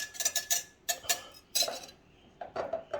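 A metal whisk clinks and scrapes rapidly against a container while dissolving salt and sugar into a pork brine, coming in short, close bursts with brief pauses between them.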